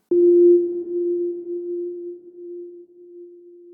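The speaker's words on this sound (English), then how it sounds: "I used a sine tone. It sounds extremely basic on its own, but run through a convolution reverb" A single pure, steady synthesized sine tone starts abruptly and sustains, washed in a long, spacious convolution reverb that slowly fades while the pitch holds constant.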